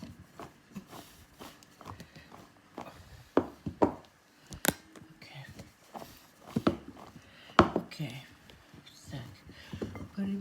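Spatula scraping and tapping in a frying pan while cooking eggplant, with irregular knocks and scrapes at close range, some louder clacks, and someone talking over them.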